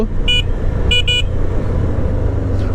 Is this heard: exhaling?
no